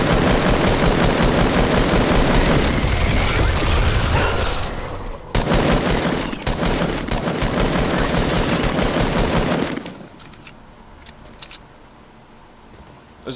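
A minigun in Fortnite fires a long, loud, rapid continuous burst of shots, briefly pausing then resuming before cutting off, leaving quieter game ambience and faint clicks afterward.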